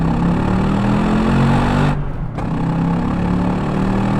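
Chevrolet Corvette C4 ZR1 engine accelerating at full throttle from inside the car, a loud, steady engine drone that drops off briefly around midway, then returns just as strong.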